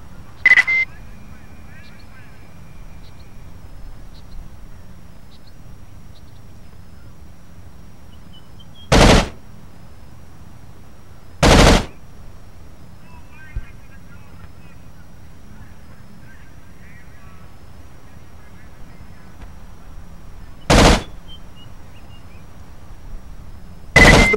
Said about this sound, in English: Set up the bipod now and begin your familiarization fire.